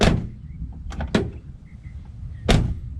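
Door of a 1973-1991 Chevrolet Suburban shutting: a sharp clunk at the start, a couple of lighter latch clicks near the middle and a second firm thud toward the end, close and with no talking.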